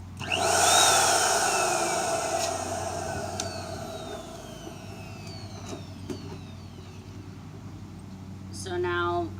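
Electric balloon inflator machine running loud and steady for a lighted balloon column, a continuous droning motor hum with airy hiss, brief clicks and a rising tone near the end.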